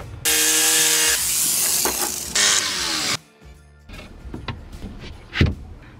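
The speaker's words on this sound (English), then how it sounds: "And then I think I'm gonna screw it in." A power drill driver screws a wooden piece into place in a garage workshop, giving two loud, close bursts of motor whir followed by quieter clicks and handling knocks.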